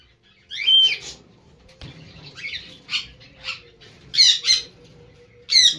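Lovebirds, including an adult albino pair, squawking in a cage: sharp short shrill calls in scattered bursts, some doubled, close by over a faint low hum and quiet rustling.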